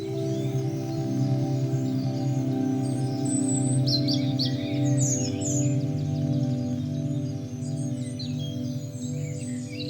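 Songbirds of a dawn chorus twitter and chirp faintly in the distance, scattered high calls over a steady low hum that persists throughout.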